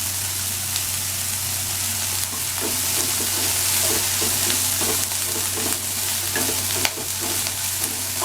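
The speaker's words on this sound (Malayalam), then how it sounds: "ശേഷം ഇതിലേക്ക് നമ്മൾ എടുത്തു വെച്ച കറിവേപ്പില ചേർക്കുക" Curry leaves go into salted onions frying in a hot pan for a Kerala beans thoran, producing a dense, steady sizzle with stirring scrapes over a low constant hum.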